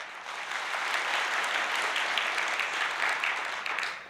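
An audience at a business seminar breaks into steady, sustained applause, many hands clapping together at an even level from start to finish.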